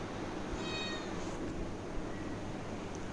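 A kitten or cat mews faintly in short high calls over a steady, noisy household background, with no one speaking.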